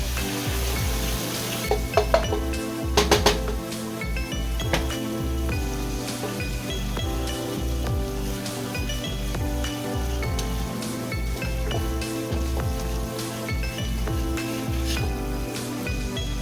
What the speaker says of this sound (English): Reduce to low flame and gently pour the yogurt paste while stirring continuously as you don't want the curd to split.